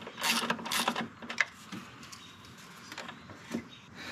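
A wrench works a 10 millimeter nut loose on the 2.7 engine of a Ford Bronco, giving a few quick metallic ratcheting clicks near the start, then quieter faint handling sounds.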